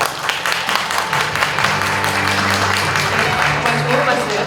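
Audience applause at an anniversary symposium, steady clapping spread across a hall, with speech-like tones running underneath.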